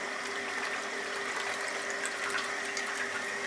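A water pump recirculating water through an Ss BrewTech home brewing system, giving a steady close rushing, trickling flow with a constant mechanical hum underneath, continuous and even throughout.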